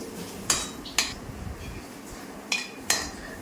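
Fried onions are scooped from hot oil with a metal ladle or slotted spoon, giving four sharp metallic clinks against the pan over a soft sizzling background.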